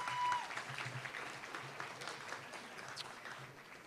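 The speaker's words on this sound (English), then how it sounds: "let's give him another round of applause" An audience at a Law Day awards event applauds a winner. The clapping is faint, distant and steady, with a light murmur of voices.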